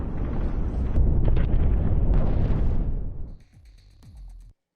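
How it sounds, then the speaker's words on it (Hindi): Explosions from a white phosphorus bomb attack on Gaza: a heavy, sustained roaring rumble for about three seconds, then fading to quieter scattered pops and crackles before cutting off. "फॉस्फोरस अटैक का वीडियो जारी किया गया है फिलिस्तीन की ओर से"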